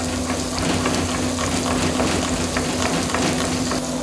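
Onions and garlic fry in a pan with a loud, close, continuous sizzle and crackle, and no voices over it.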